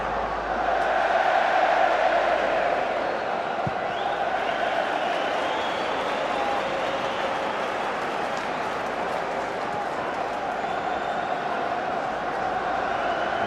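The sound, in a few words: stadium football crowd cheering at Sunderland v Burnley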